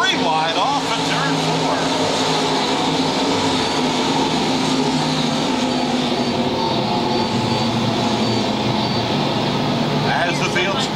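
Race cars roar around the track at Lakeside Speedway in an A-main, a dense, continuous engine drone held steady and loud throughout, with voices talking over it.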